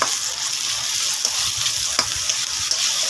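Dried fish (daing) dropped into a pot for bulanglang, a continuous close frying sizzle with a few faint stirring knocks, no voices.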